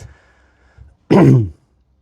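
A single loud, rough cough or throat-clearing bursts out close by after a moment of near silence, with no talking.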